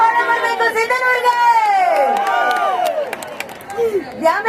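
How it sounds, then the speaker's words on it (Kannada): An audience at a Saregamapa music show event in Sindhanur claps and cheers as a crowd, with voices and sung or called-out tones riding over the steady applause throughout. "ಒಂದ್ ದೊಡ್ಡ ಚಪ್ಪಾಳೆ ಮಾಡ್ಬೇಕು ಸಿಂಧನೂರ್ಗೆ"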